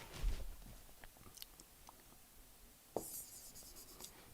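Chalk or marker writing on a board during an engineering lecture on cooling towers, heard as faint scratchy strokes with a sharp tap near the middle, close and quiet, with no speech.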